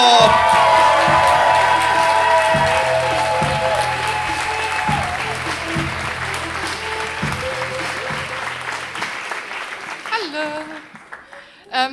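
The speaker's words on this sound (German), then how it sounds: "Klatscht bitte aufs Heftigste" Audience applauding at a poetry slam semifinal in Bayreuth, Bavaria: dense sustained clapping with some cheers fills most of the clip, then thins and fades toward the end.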